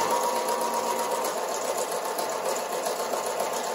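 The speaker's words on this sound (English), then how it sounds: "We're just gonna place our presser foot right there and start stitching. It's just a nice straight stitch all the way down." Close, continuous whirring and rapid ticking of a sewing machine running a straight stitch down an apron hem, steady and even throughout with no voices.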